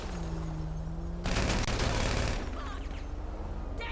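Rapid bursts of gunfire in Grand Theft Auto as the player shoots down innocent bystanders, a loud dense volley in the middle of the clip set against steady game ambience and engine hum.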